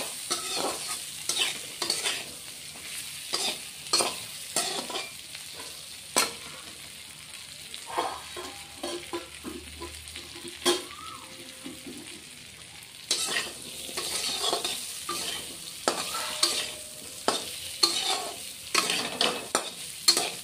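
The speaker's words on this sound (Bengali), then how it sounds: "আলুটা অল্প ভেজে নেই।" Potatoes frying in a pan for a Bengali mustard fish dish, stirred repeatedly over a lowered flame: steady close sizzle with frequent scraping stir strokes throughout, no talking.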